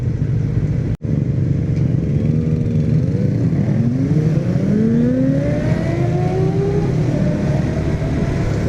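A Kawasaki Ninja 250 inline engine revs up and down steadily, its pitch rising and falling in long sweeps, loud and close with no talking.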